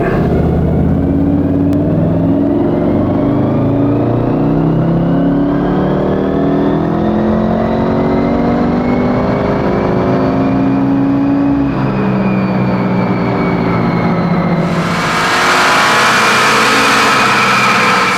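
A tuned VW Mk7.5 Golf R engine revs hard through a long dyno pull, pitch climbing steadily for about fifteen seconds before the throttle lifts and a loud whooshing release follows; no talk.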